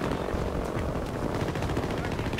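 Gunfire from the video game Battlefield 2042, a steady, dense stream of shots filling the whole moment, with a helicopter and other battle noise mixed in and players' voices talking over it.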